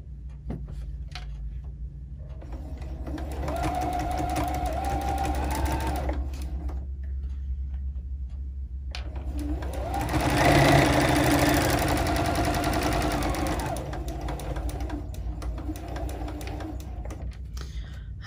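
A sewing machine stitching over the pleats of a fabric face mask runs in two long bursts of rapid, even mechanical whirring and clatter, separated by short pauses, close and fairly loud.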